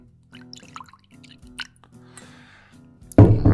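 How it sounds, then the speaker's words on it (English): Blanton's bourbon is poured into a glass, a short close liquid splash and gurgle near the end after quiet handling noises. "That pop, that sound, a little pour."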